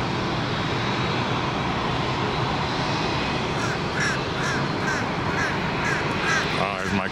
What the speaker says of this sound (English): My crow buddy.